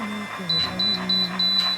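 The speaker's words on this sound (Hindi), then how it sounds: "अब ले लिए, तीन बीप करेगा" A Babyliss Curl Secret Optimum hair curler gives a series of short, thin electronic beeps at a steady pace while someone talks over them nearby.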